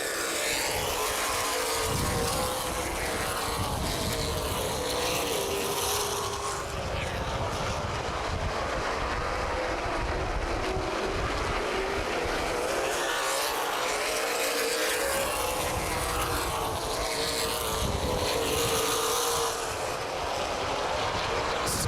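CRA Super Series race cars roar around Anderson Speedway as a dense, unbroken wall of engine noise that swells and fades slightly while the pack passes, loud and close throughout.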